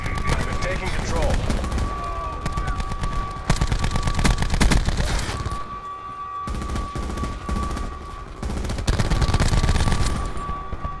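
Rapid automatic gunfire from a video game gun during a Black Ops deathmatch, sustained loud bursts with brief pauses, layered over game effects and background noise.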